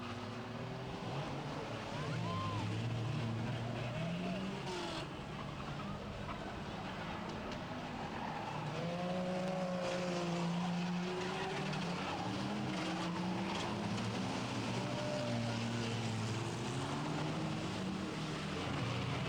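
Front-wheel-drive race cars lap Bovingdon Raceway, distant engines whining and rising in pitch as they pass, several cars overlapping in a continuous moderate-level drone heard from trackside.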